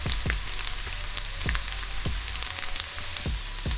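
Bacon frying in oil in a pan until the fat renders and crisps, a close, continuous sizzle with crackling pops and a few soft low thumps.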